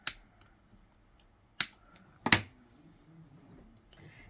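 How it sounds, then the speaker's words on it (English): Scissors snipping excess yarn from a knitted moss-stitch washcloth, a few sharp, close clicks spaced apart, the last a quick double snip, in a quiet room. "Then I'll cut off the excess."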